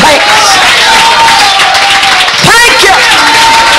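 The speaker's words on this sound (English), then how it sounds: "clap your hands and give him thanks" A church congregation claps hands together in praise, a loud, dense wash of clapping and crowd noise with voices mixed in, swelling briefly partway through.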